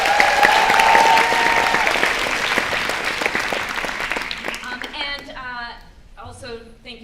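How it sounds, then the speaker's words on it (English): Audience applause for an all-student pit orchestra at a school musical performance, loud and dense clapping at the start that gradually thins and fades, with voices emerging toward the end. "can we get a huge round of applause for them?"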